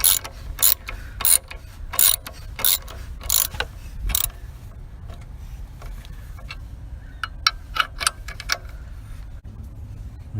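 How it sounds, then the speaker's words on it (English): Ratchet clicking while tightening engine mount bolts on a 2007–2012 Nissan Altima 2.5 S, with bursts of rapid metallic ratcheting strokes, some loud and close, then lighter, quicker clicks. "Once you're done tying them up with the ratchet, use a torque it to specs."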